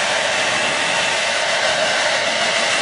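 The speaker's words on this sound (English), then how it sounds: "So I'm going to take a hair dryer and dry this off a little bit here" A hair dryer drying watercolor paint blows steadily and loudly throughout, a constant broadband whoosh with no other sounds.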